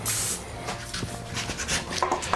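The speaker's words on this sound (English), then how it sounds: "I also take and spray my paper cups" A short burst of aerosol cooking spray hisses onto paper muffin cups at the start, followed by light rustling and tapping of paper.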